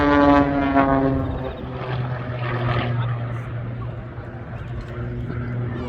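Cap aerobatic propeller plane flying at an airshow, a droning engine and propeller tone that fades and shifts as it passes, heard at moderate distance with a narrator talking over it.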